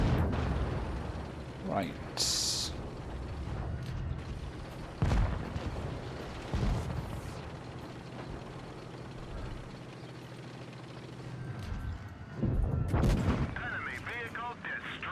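Bomb blast explosions in a vehicle combat video game, heavy booming bursts and rumbling detonations that recur across the stretch amid gunfire-like cracks, with someone talking briefly over the action.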